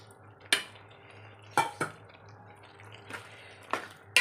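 A spoon clinks against a pan as boiled koorka and pork curry are stirred, with several sharp metallic knocks spaced irregularly over soft wet stirring and a faint background hum.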